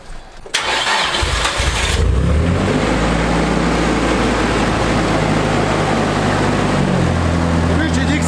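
An engine cranks and catches after a brief electrical click, then settles into a loud, steady running rumble with a slight rise in pitch near the end.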